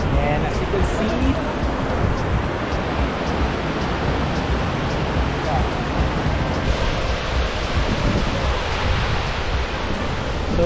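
Bomod-Ok Falls roars as a dense, steady wash of falling water, loud and unbroken, with a voice talking over it.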